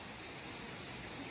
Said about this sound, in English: here we're coming to the beautiful waterfall